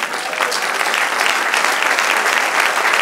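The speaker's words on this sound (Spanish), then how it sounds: "Denle un aplauso al Señor." A church congregation claps together during a sermon. The applause is loud and close, with sharp, dense, sustained clapping that carries on evenly for a few seconds and has no voices over it.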